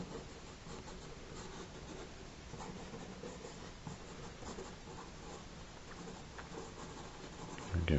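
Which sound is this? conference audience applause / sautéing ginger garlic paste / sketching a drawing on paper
sketching a drawing on paper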